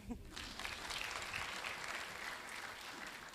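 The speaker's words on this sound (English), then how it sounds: "I think you can give yourselves a clap for that" Graduates at a college graduation ceremony applaud themselves, a steady wash of clapping from a large seated crowd in a hall, moderately distant and even throughout, with a faint voice at the start.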